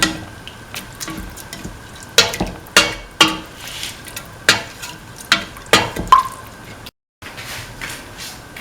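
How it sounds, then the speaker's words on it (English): Rice and water boil together in a cooking pot, a steady bubbling hiss broken by a string of sharp clacks and knocks, close and fairly loud, ending with a brief drop to silence. "Close and let the mixture boil."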